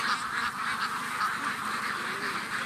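A flock of ducks on a farm in Isan, Thailand, quacking continuously in a dense, overlapping chorus, close and fairly loud, with no talking.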